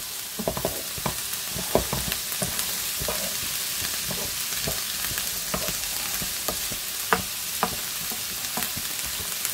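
Corned beef and potato stew stirred in a pot, a steady bubbling sizzle with repeated spoon knocks and scrapes at an irregular rhythm, up close.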